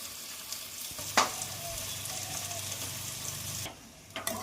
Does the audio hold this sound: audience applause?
no